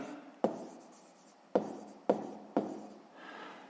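A pen writes down a math answer on paper, with four sharp scratchy strokes spaced apart, close and quiet in an otherwise still room.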